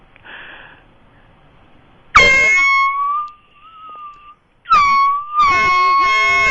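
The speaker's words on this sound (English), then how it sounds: "hate that air horn so much" Two loud, blaring air horn blasts, the first holding then wavering as it dies out, the second long and steady, after a faint rustling lead-in.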